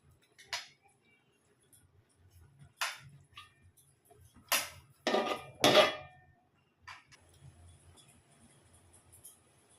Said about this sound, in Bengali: এবার রাইসগুলোকে দিয়ে দিচ্ছি।